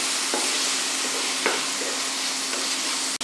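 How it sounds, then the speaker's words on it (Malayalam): Vegetables with soy sauce sautéing for chilli soya, a steady loud sizzle with a few faint spatula taps and scrapes, no talk. "ഇതെല്ലാം കൂടെ ചേർന്ന് നന്നായിട്ടൊന്ന് വഴറ്റി വെക്കണം."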